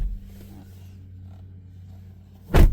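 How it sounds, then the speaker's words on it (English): The door of a 2024 GMC Sierra 1500 AT4 pickup swings shut. A faint low hum comes first, then a single solid thud lands close by near the end. "close the door back."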